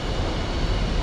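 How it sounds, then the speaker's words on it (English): Several F-4 fighter jets take off at an airbase in a DCS World flight simulation, a dense, steady roar of jet engine noise filling the background without a break. "you can hear the F4s taking off in the background now"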